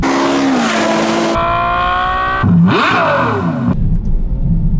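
A Ferrari F12 Berlinetta V12 with an aftermarket iPE exhaust revs hard and loud, its pitch climbing, dropping and sweeping up again through sharp throttle blips before settling back.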